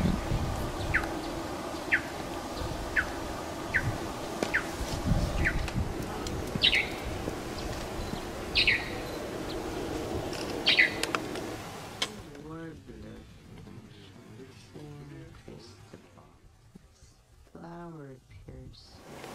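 Repeated short, sharp calls of a woodpecker finch in the Galapagos ring out at steady intervals over outdoor ambience, followed by people talking quietly nearby.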